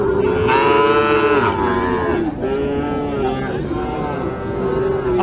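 A Sahiwal cow at a cattle market lets out a long, loud, close moo that sustains and wavers for several seconds, with a second drawn-out call following amid background voices.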